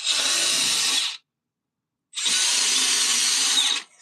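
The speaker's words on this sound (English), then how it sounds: "It's really hard to get a drill in here." An electric drill bores a hole during an LED lighting install, two loud close bursts of steady whirring separated by a second of silence.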